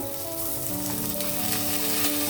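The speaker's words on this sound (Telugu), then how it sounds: "బిర్యానీ మసాలా కొంచెం వేగిన తర్వాత నేను కొంచెం ఆనియన్ వేస్తున్నాను ఇప్పుడు" Onions fry with biryani masala in an oily pan, a continuous loud sizzle with faint tonal hum underneath, no voices.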